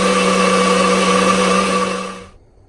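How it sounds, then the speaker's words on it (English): NutriBullet blender pureeing cooked peas in a kitchen, a loud, steady motor whir with a droning hum that runs for about two seconds, then abruptly cuts off into silence. "Now, I use a neutral bullet to puree my peas."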